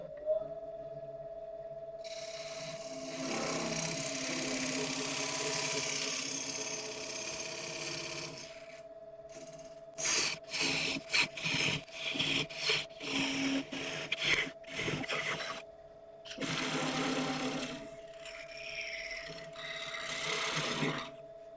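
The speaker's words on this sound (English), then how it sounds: "Okay, I'll quickly sand this piece." Sandpaper rubs a spinning turned wood piece on a lathe, a continuous raspy hiss over the motor's steady hum, broken midway by short choppy strokes before settling back into a smooth scratch.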